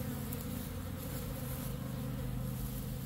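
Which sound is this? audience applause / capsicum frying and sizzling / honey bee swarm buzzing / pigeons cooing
honey bee swarm buzzing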